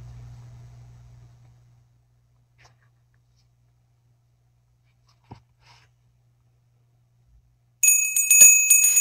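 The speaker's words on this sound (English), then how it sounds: "thank you for the bells" Bright, rapid bell chimes from livestream gift alerts ring out near the end, loud and clear after several seconds of near silence.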